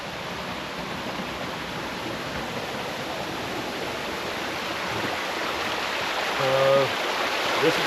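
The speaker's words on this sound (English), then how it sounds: "But here's the fountain." A natural spring-water fountain on a Stellenbosch wine estate splashes with a constant, close rushing wash that swells slightly toward the end, with a brief faint tonal sound near the close.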